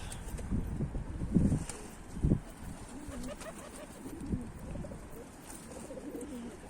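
Mardin pigeons coo in low, soft bursts, a couple of louder calls near the start, then quieter murmuring over faint outdoor wind.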